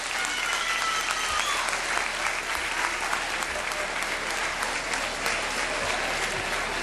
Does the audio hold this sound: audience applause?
yes